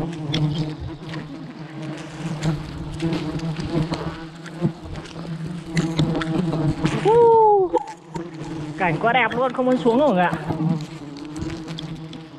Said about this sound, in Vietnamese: Ong bu đầy luôn này.